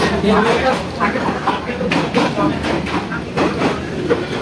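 A local passenger train rumbles along its rails with rhythmic clickety-clack, heard from on board during rain, loud and steady beneath people talking.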